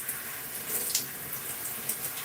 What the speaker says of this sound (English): So I'm rinsing the hair with the twist in.